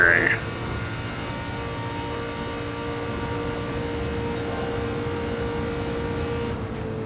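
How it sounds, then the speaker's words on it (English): A supercharged car engine in Gran Turismo 7 drones steadily with a high, thin supercharger whine held over a constant rumble. "I do like listening to the supercharger on this thing"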